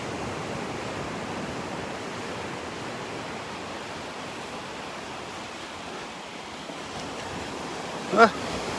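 Steady surf washes ashore at Delnor-Wiggins beach on an outgoing tide, a broad continuous roar of breaking waves with a brief sharp knock near the end.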